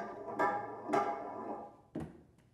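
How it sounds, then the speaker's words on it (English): A metal ball rolls and accelerates down an inclined track over thin gut frets, giving three soft, faint clicks that come at uneven intervals across a quiet room. "These even clicks of a metal ball accelerating over a series of thin gut frets."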